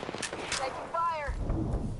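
Bursts of gunfire in Apex Legends crackle at moderate distance, with a short tonal in-game radio chirp in the middle and a heavier rumble of shots near the end, under brief voices.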